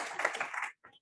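An audience at a North Park Civic Association town hall with an assemblywoman claps briefly, a short, faint patter of applause that stops abruptly, followed by a few scattered claps.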